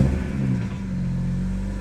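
A BMW engine revs nearby, a deep, steady rumbling drone with a slight swell, heard alone without talk.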